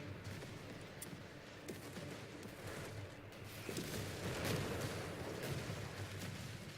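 A German 7.5 cm infantry gun fires in a Company of Heroes 3 battle, with sharp reports and booms amid scattered distant gunfire, all fairly faint and layered over a rumbling background.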